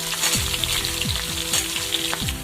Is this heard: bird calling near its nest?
no